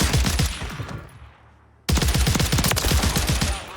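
Rapid automatic gunfire from an SMG in Warzone 3 rattles in dense bursts, loud and close, breaks off briefly into a fading tail, then resumes at full intensity.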